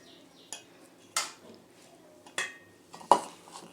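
A spoon scrapes and taps against a pan while stirring motichoor laddu mixture in sugar syrup, several sharp metallic clinks spaced irregularly apart, close but fairly quiet, with no voices.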